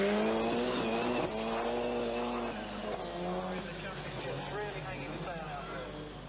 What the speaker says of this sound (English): Then came Wilson in the 16-valve Astra GTE